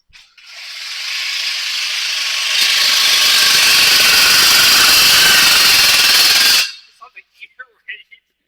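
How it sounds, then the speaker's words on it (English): A loud, continuous air tool rattles and whines for about six seconds while a truck exhaust is being removed, then stops abruptly and is followed by a few short clanks and clicks. "we're letting him tear apart my exhaust right now"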